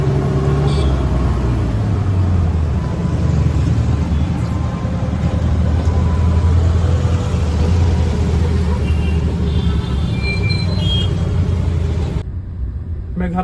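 Steady, loud rumble of idling car engines in a roadside traffic jam during Kanwar Yatra, a dense continuous drone of vehicles close by with faint higher tones on top before it cuts off abruptly near the end.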